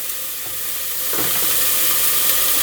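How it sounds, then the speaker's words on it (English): Three or four chopped celery stalks sautéing in a pan for cornbread stuffing, a continuous hiss that swells louder partway through, with a faint stir and no speech. "And I've got about 3 or 4 stalks of celery all chopped up in here. So that's it. We're just going to let them saute."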